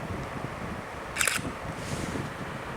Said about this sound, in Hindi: अब ये पंखा अपनी फुल स्पीड से चल रहा है।